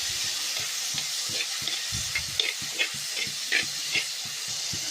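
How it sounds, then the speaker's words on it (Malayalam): Onion and tomato fry in a pan with a continuous hissing sizzle, punctuated by a quick run of rhythmic scraping stirs, close up and without any voices. "ഇനി ഇതിലേക്ക് ഒരു വലിയ തക്കാളി കട്ട് ചെയ്തിട്ടുണ്ട്. നന്നായിട്ടൊന്ന് ഇളക്കി കൊടുക്കാം."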